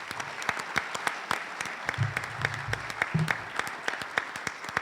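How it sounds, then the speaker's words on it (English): An audience applauds Hall of Fame inductees at a St. Bonaventure athletics induction ceremony. Dense, steady clapping fills the room for several seconds, moderately loud, with a faint murmur of voices underneath. "please let's join in applauding these Hall of Famers"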